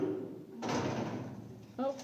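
An old elevator's doors slide with a rumbling scrape that starts suddenly, holds for about a second, then stops, followed by a short voice.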